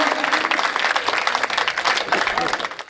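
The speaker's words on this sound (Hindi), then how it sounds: "तुम्हारी तालियां यकीन मानो, तुम्हारी तालियां हिम्मत बढ़ाती हैं।" Audience applause at a Hindi poetry recital, a short burst of dense clapping from the crowd with voices mixed in.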